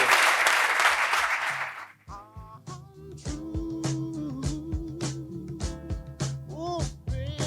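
Audience applause closing a live Spanish talk show, a dense burst of clapping for about two seconds before it cuts into music.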